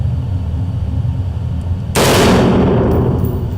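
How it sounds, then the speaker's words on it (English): A single loud AK-47 rifle shot at an indoor firing range cracks out near the middle, followed by a long rumbling decay over a steady background hum. "Whenever you're ready, fire away."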